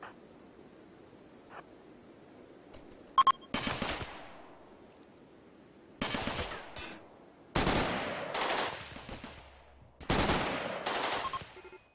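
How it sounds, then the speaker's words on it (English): Turrets open fire in the video game Rimworld with several separate bursts of rapid gunfire, loud and close, separated by quieter gaps and a few scattered single shots. "Let the turrets handle these guys for a minute."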